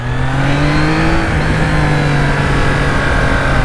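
Engine of a 2021 Triumph Trident 660 motorcycle ridden on Sydney streets, a steady loud mid-pitched drone holding near-constant revs with a slight pitch shift early on, wind and road noise throughout.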